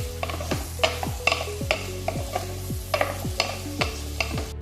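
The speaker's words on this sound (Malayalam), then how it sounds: "ഇനി അതിട്ടിട്ട് ഒന്ന് നന്നായിട്ട് വഴറ്റി കൊടുക്കാം" Small cut potato pieces being sautéed in a pan, a spoon striking and scraping in a quick repeated rhythm over a soft sizzle, close by with no talking.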